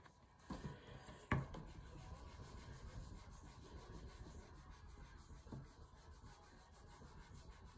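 A spoon burnishes paper over an inked drypoint etching plate, giving a faint, steady rubbing scrape with one or two sharper knocks near the start, close and quiet with no talk.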